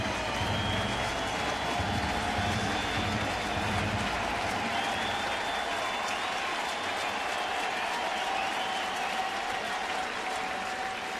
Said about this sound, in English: And another nice round of applause for Albert.